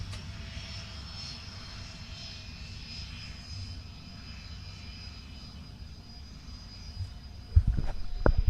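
An Aeroflot Airbus A350 jet landing at Manchester Airport on a wet runway throwing up spray: a steady, distant engine roar that swells suddenly louder with rumbling bursts at the end.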